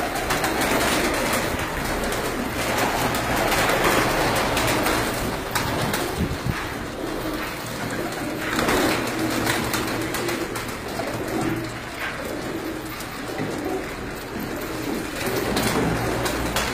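Pigeons cooing inside a cage holding several birds, a steady dense murmur of soft coos layered over constant low background noise throughout, with no talking.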